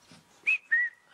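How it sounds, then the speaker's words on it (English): Two sharp whistled notes, a higher one followed by a lower one, given as a sit command to a sheepdog. Each tone is short, clear and close, with brief pauses between them. "to get her to sit, you just have to whistle one high and one low"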